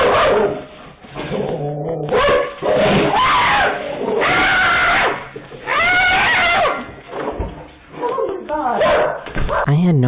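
A dog barks and yelps in excited bursts during a walk outdoors, loud and close, mixed with people screaming and shouting over it in uneven, overlapping waves.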